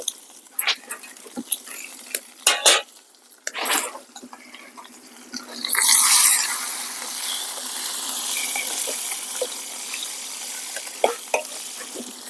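Curry leaves and chopped coriander go into a hot pan already holding cumin, garlic and dried red chillies for a brinjal bajji, then get stirred. A few sharp clicks and taps come first, then a sudden burst of sizzling settles into steady frying with no talk.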